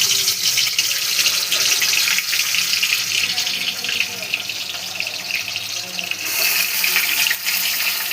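Pieces of bhola fish slide into hot oil and fry with a loud, steady, bright sizzle that holds throughout and swells briefly near the end.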